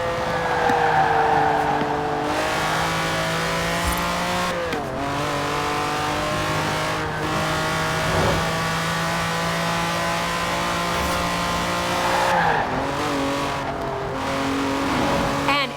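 Lamborghini Countach engine in Forza Horizon 4, a loud, close, continuous engine drone with repeated gear shifts and revs rising and dropping, heard without talk.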